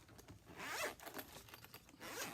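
A zipper on a sparkly, sturdy bag rasps open in several quick, close pulls, quiet and with no other sound.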